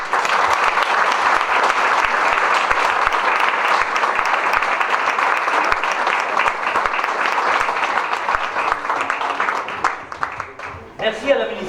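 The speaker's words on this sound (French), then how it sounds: "je voudrais que vous fassiez une ovation à ces personnes et que vous les applaudissiez" Sustained applause from an audience giving an ovation at a ceramics event rolls on steadily for around ten seconds before tapering, with a few louder claps and a voice emerging at the very end.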